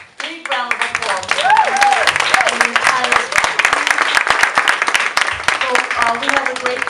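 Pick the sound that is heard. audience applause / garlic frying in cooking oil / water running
audience applause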